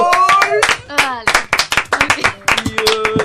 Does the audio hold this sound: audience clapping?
yes